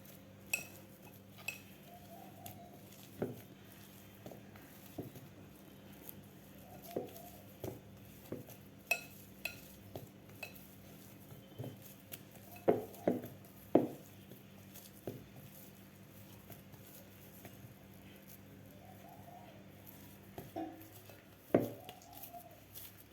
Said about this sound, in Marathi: तूप घातल्यानंतर परत एकदा आपल्याला हे मिक्स करून घ्यायचं आहे